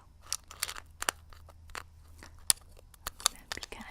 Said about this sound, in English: I'm gonna be kind of chewing on them and stuff as I talk.